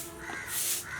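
A crow caws in a loud, close call, with a burst of harsh cawing near the middle against a steady outdoor background.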